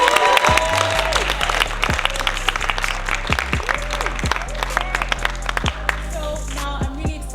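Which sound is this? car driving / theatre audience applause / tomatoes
theatre audience applause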